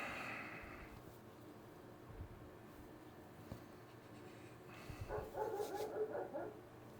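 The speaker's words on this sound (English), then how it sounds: "Oh, goes my dog." A dog barks and yips faintly in the background, a few scattered sounds mostly near the end, during air rifle testing.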